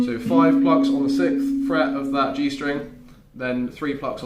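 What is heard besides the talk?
None of the usual background noises is heard.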